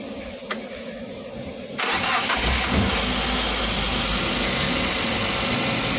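A Suzuki APV engine cranks briefly and catches after a timing belt replacement, then settles into a loud, steady idle that runs close by to the end.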